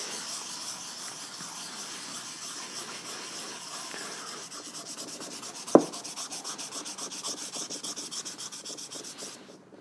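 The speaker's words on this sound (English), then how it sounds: "sanding with a flat surface, because it can never get inside" Rhythmic rubbing of sandpaper on a flat surface across a 3D-printed Spider-Man shell, steady close scratchy strokes with one sharp knock midway.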